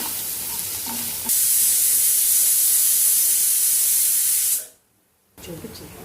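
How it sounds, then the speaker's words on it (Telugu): Onions fry with turmeric in a pan for cabbage and chana curry, giving a loud, steady sizzling hiss that swells, cuts out to near silence, then comes back faintly. "ఇప్పుడు దీన్ని కొంచెం ఆనియన్ కొంచెం బ్రౌన్ కలర్ వచ్చే వరకు ఫ్రై చేసుకొని"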